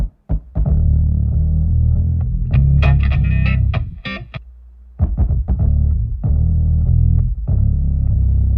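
Thick layered bass line, a bass guitar through an octave effect doubled by a MIDI synth bass, loud and distorted-sounding with chorused shimmer, playing rhythmic notes with a brief drop-out near the middle before resuming.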